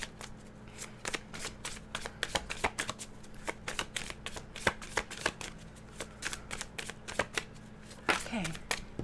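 Tarot cards are shuffled by hand in quick riffling bursts and soft slaps, close and crisp, repeating irregularly for several seconds with no talking.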